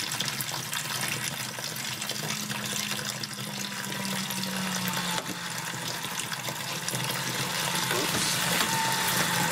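A shower in an off-grid tiny house runs steadily on a water pump, giving a broad, even hiss of spraying water with a faint pump hum underneath, close and unbroken for several seconds.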